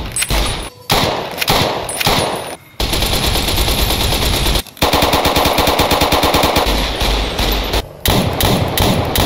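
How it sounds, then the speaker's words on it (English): Dense, loud bursts of automatic gunfire in Fallout: New Vegas, with rapid rhythmic rattles and heavy single shots, separated by a few brief silent gaps. "All Fallout's firearms now sound destructive and a tad louder."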